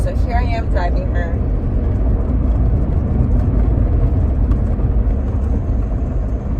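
Interior drone of a 2009 Toyota Prius hybrid on the move, a continuous smooth road and engine hum, with brief speech at the start.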